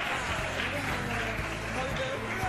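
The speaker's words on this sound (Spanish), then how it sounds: "¡Un aplauso enorme!" Applause from a school audience at the Colegio Villa de Alcorcón during a school radio broadcast, steady dense clapping filling the whole moment with a voice faintly mixed in.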